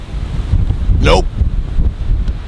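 Heavy wind rumbles against the microphone on a golf course, low and continuous, with a short voice rising briefly through it.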